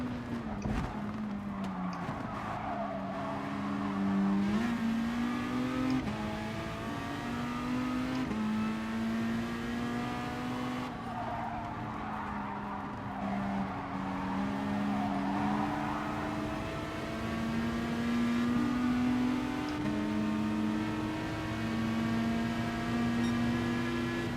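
Race car engines in Gran Turismo Sport wail continuously through a lap, pitch climbing and dropping with upshifts and braking, loud and steady with no talking.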